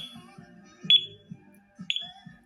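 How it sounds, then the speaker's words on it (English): An ADT Impassa alarm panel beeps its exit delay at regular intervals, three high electronic tones about a second apart, with faint background noises underneath. "There goes our exit delay."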